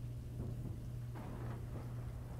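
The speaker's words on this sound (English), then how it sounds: "It's raining." Rain falls steadily with a low rumble of thunder underneath, faint and distant, with no voices.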